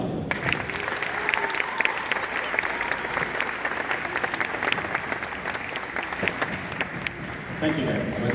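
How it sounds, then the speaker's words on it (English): Audience at a middle school band concert giving another round of applause, sustained dense clapping from many hands throughout, with some voices mixed in underneath. "And another round of applause."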